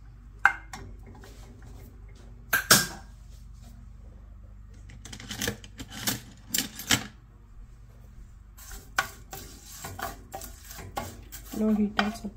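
Urad dal, chana dal and cumin are stirred and roasted over low heat in a pan for tomato rice, giving scattered scraping and clinking bursts with quiet gaps between them.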